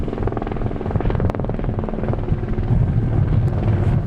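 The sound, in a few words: rescue helicopter flying over beaches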